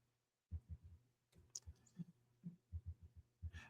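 A computer keyboard is struck hard during a sports-betting picks discussion, giving a close, uneven run of heavy, dull thumps and taps with short pauses and no speech.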